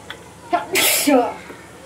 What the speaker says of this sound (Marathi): फोडणी शिंक यायलाच हवी